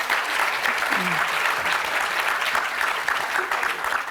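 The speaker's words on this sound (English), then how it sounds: "But please give them all a round of applause, because we're really grateful they're here." Audience at a commissioners' conference panel on international topics applauds steadily for about four seconds, a dense, even wash of clapping that stays loud throughout.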